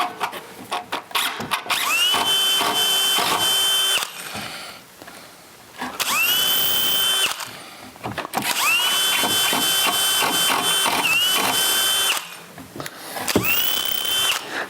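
Power drill boring into hard maple wood while building an indoor ladder, with several loud sustained whining bursts, each spinning up to a steady pitch and cutting off, separated by short pauses.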